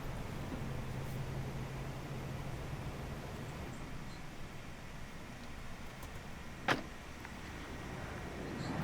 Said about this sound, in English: hook up a baby speaker to my phone so that I can play some white noise in the background